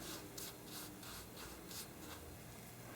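A hand mixes a thick honey scrub in a bowl, making soft, steady gritty rubbing strokes in a repeating rhythm, quiet and close, with no talking.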